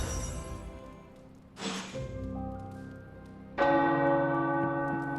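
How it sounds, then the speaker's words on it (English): Tower church bells peal in Marvel's Midnight Suns, several resonant strikes with long ringing decay, the last one louder and fuller, no voices. "The tower bells are ringing."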